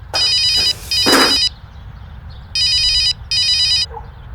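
A telephone rings in repeated electronic bursts, two pairs of rings separated by a short pause, loud and close in an otherwise quiet indoor scene.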